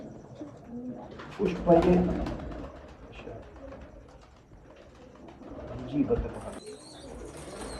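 Bankay pigeons coo softly beneath steady conversation among several men, the low throaty calls blending with background chatter and occasional louder voices.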